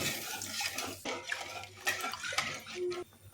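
Water is poured onto fried spice paste and stirred in. Close, moderately quiet splashing and scraping with a few utensil clinks against the pot fill the short stretch.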